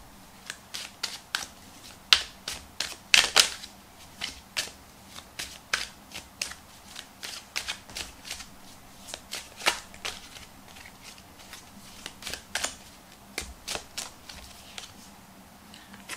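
A deck of tarot cards is shuffled by hand in a quiet room, producing a long series of crisp riffling and slapping bursts in an uneven rhythm, close and clear with no talking.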